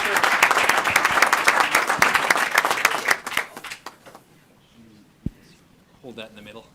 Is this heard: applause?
yes